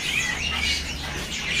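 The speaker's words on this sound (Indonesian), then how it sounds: "Di sini ada burung cicak ranting yang jantannya nih." A male cucak ranting songbird sings close and loud, a quick stream of bright high chirps and twittering notes running continuously over a short stretch.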